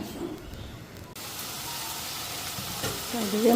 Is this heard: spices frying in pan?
yes